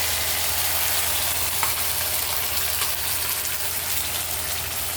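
Tomato and shallot masala paste sautéing with curry leaves in a pan for garlic tamarind curry, a steady close sizzle with soft crackle and no talk throughout.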